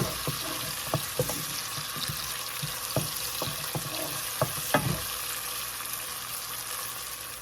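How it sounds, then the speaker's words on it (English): Haitian epis seasoning frying in a pot with a steady low sizzle, broken by several sharp clinks and scrapes of a utensil in the first five seconds, then the sizzle continues alone, close and moderate. "So I added 2 tablespoons of EPIS, allow it to fry up."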